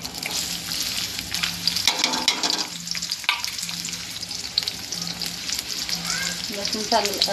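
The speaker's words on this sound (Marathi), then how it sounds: "आता कांदा टाकते" Onion sizzles loudly in a hot pan with mustard seeds, cumin and garlic, a dense steady frying hiss broken by scrapes and stirring clatter.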